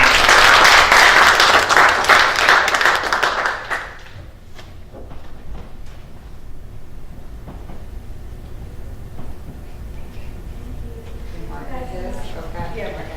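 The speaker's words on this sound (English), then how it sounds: "One more time, round of applause for Whitney" Audience applause at a county freeholder meeting, loud and dense for the first four seconds, then fading into quiet room murmur and scattered voices talking.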